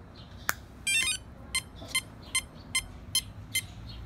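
An electronic speed controller powers up: a bright chirp and a short tone give way to six short, evenly spaced electronic beeps signalling a 6S battery, clear and close against a quiet hum.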